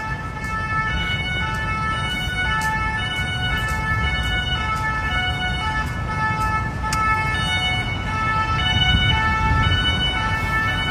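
Several ambulance sirens wail outside at once, steady overlapping wailing tones with a short horn toot, loud and continuous throughout, with a rumble of traffic underneath.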